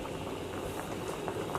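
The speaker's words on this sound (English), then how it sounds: "it's going to take some time for the water to boil" Water boils in a pot on a stovetop, a dense continuous bubbling and rolling that stays steady and close throughout, with no voices.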